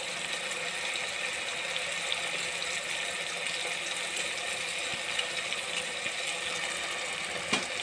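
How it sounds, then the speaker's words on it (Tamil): Water is poured into a cooking pot for lentil rice, a steady, even hiss of flowing liquid at moderate level, with one faint click near the end. "பிறகு தண்ணீர் ஊற்றவும்."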